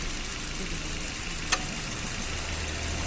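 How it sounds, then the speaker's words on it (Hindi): A 2021 Maruti Brezza ZXI petrol engine idling with the air conditioning switched on, a steady low hum heard from nearby, with one brief click partway through and no talk. "आप ये देख सकते हैं AC ऑन करने के बाद भी गाड़ी के इंजन पे कोई खास फर्क नहीं है।"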